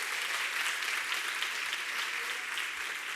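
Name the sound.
congregation applause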